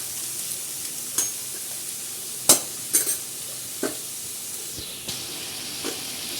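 Okra with tomato fries and sizzles in a pan, a steady hiss with a handful of sharp clanks and scrapes as a spoon stirs it, close and alone with no voice.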